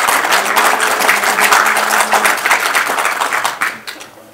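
Warm applause from an audience at a Chungnam resident autonomy council chair handover ceremony at Nonsan Cultural Center, thanking the outgoing chairman; close, lively clapping that swells, then thins into scattered claps near the end.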